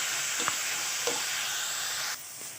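Chopped tomatoes drop into hot oil with dried red chillies in a pan, giving a steady loud sizzle and frying hiss with a couple of brief stirring clicks, then the sizzle eases slightly near the end.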